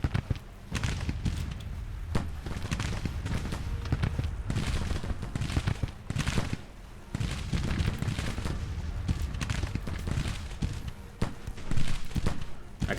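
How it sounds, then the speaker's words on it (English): Dense musket volleys in a Grand Tactician American Civil War battle, crackling in continuous overlapping bursts with sharp louder cracks throughout, a sustained barrage from a tree line with no talk. "You can just see the absolute barrage of gunfire coming from our tree line in relation to the enemy"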